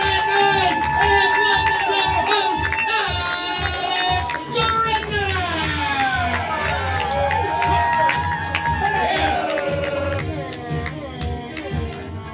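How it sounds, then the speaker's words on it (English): A comedy club audience on a Saturday night at First Coast Comedy cheers, whoops and shouts, a loud, dense crowd roar that holds almost throughout and eases slightly near the end. "he said, as the crowd went wild"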